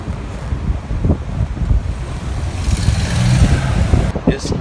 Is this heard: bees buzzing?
no